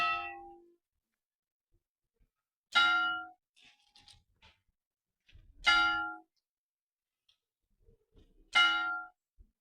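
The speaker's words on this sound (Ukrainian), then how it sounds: "Ось так стояла на цій площі, слухала дзвін." A clock on a chapel on a town square strikes its bell three times at even intervals of about three seconds, each clear metallic clang ringing out and fading, with quiet gaps between and no talking.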